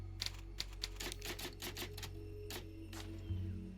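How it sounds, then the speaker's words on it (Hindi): Typewriter save sound in the video game Resident Evil 4: a quick run of crisp mechanical key clacks followed by a carriage-like clunk, close and fairly quiet, with no voices. "तो हमारा पूरा गेम एक टाइपराइटर से सेव होता है।"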